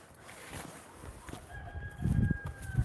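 Backyard chickens in a coop after snow, with soft clucking and a fowl call rising near the end, close and moderately quiet against light background noise.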